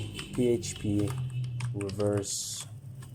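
Keys clatter on a computer keyboard in quick bursts of clicks, partly masked by someone talking close to the microphone.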